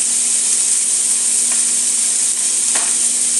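Cube steak sizzling on high heat in a pan, a loud, steady, close hiss of frying with a couple of faint clicks, no voices.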